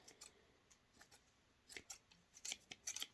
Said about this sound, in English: And cut off a little snip right there.